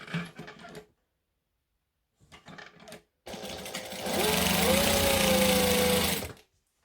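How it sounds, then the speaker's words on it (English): A domestic sewing machine stitches the short sides of hoodie cuffs together, running in one steady loud burst of about two seconds, close up, after brief rustling of fabric and handling. "I'm going to stitch short sides together"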